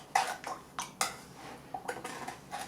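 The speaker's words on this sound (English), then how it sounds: "Bit of a stir up." A spoon stirs an Estonian military ration drink in a mug or pot, giving a run of quiet, separate clinks and scrapes at an uneven rhythm.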